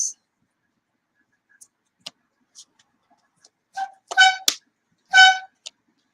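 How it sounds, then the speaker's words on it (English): A car horn honks a few short, separate times in the background, with brief blasts clustered near the end amid otherwise near-silent surroundings and small scattered clicks. "Sorry, you get the car honking."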